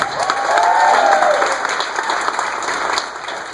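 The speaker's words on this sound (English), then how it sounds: "please give a round of applause for our awesome host" Comedy club audience breaks into loud, dense applause for the host, steady clapping close and full throughout, with a voice briefly heard early on.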